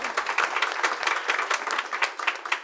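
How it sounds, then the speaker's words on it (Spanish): An audience at a literature talk gives a brief round of applause, a soft, steady patter of many hands clapping at some distance. "un aplauso, sí."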